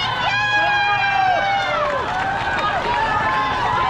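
Marathon crowd near Tower Bridge in London cheering runners on, a loud continuous roar of voices and whistling-like tones close around, with no clear single speaker.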